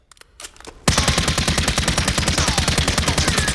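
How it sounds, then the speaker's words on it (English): MCX Spear (M7) rifle firing full-auto in Warzone, a few scattered shots followed by a loud unbroken rapid burst with an even, fast cadence. "So that's the MCX Spear, or the M7"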